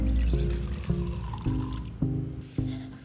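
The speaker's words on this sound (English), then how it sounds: "I poured the acetone into the cup" Acetone poured into an electric metal cup, a steady liquid stream splashing and gurgling with repeated pulses roughly every half second, close and fairly loud with no voices.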